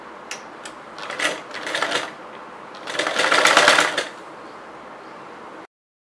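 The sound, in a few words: sewing machine stitching folded chudidar fabric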